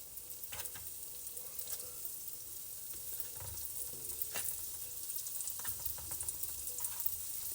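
Donut holes frying in oil give off a steady, fairly soft hiss and bubbling, with a few brief clicks and scrapes scattered through and no speech.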